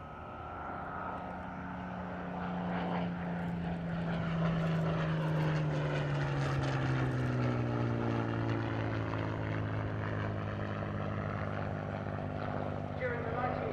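A Hawker Hurricane PZ865 propeller fighter passes at an air display, its engine drone swelling to a steady, sustained roar with a slowly falling pitch.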